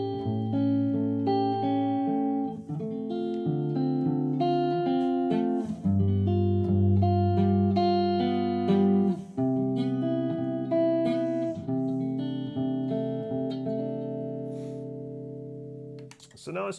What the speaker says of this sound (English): this is sounding like this: combined Weinbrock and Mesa Boogie cabinets